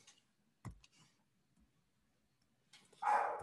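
A single dog barks once in the background, faint and short, with a louder bark or yelp toward the end after a quiet stretch.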